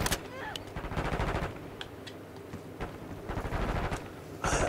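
Assault rifle fire in a Call of Duty: Black Ops 6 free-for-all match on the Babylon map, with repeated bursts and single cracks over about five seconds, loud and close amid game noise.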